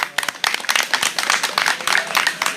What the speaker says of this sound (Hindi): ऐसे व्यक्ति के लिए एक तो ताली आप लोग बजा सकते हैं